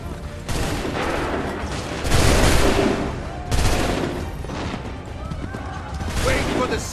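Musket volleys from a firing squad in Assassin's Creed III, with several loud crackling bursts of massed gunfire rolling out across roughly seven seconds, amid battlefield din and shouted orders.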